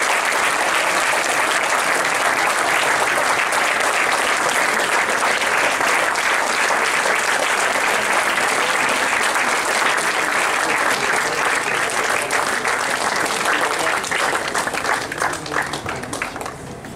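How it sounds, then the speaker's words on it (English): Sustained, loud audience applause honoring the winner of a national moot court competition at a university, a thick continuous clapping that holds steady for the whole stretch before tapering slightly at the end. "A huge round of applause for the winner of this competition"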